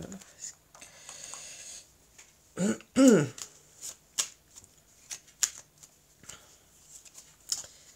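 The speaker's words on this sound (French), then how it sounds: "les cartes, elles sont pas bien mélangées" Tarot cards being shuffled by hand at a table, a close, soft riffling and flicking in short bursts separated by pauses, with a brief voice sound partway through.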